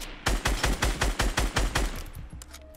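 Rapid gunfire in the Fortnite battle royale game, about ten sharp shots in a quick, even burst, loud and close, then tapering into fainter reports and quiet.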